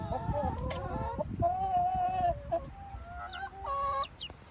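Hens cluck close by in a farmyard, with a run of short, pitched clucks and calls in irregular bursts, some louder and nearer than others.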